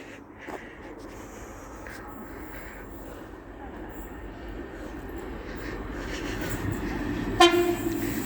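A Class 56 diesel locomotive passing at Sandling, a low rumbling engine building steadily louder with a short sharp horn-like tone near the end and faint background voices.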